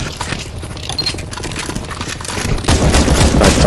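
Rapid automatic gunfire from a CS:GO zombie escape map, players shooting at oncoming zombies in a continuous, dense stream that swells louder toward the end, with no speech over it.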